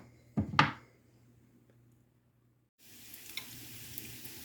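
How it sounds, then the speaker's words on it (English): Bacon frying in a preheated pan; after a couple of knocks and a brief hush, a steady, close sizzle starts and runs on evenly with a few sharper crackles. "So all we're going to do is cook this bacon until it is crispy."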